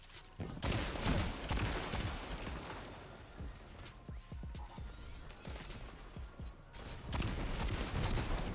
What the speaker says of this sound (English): Oh, he exploded.